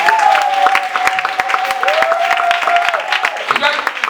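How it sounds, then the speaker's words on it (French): A church congregation claps and cheers for Jesus, a dense burst of applause with sharp individual claps, while a voice sings or calls out over it in a sustained tone. "Acclamons Jésus"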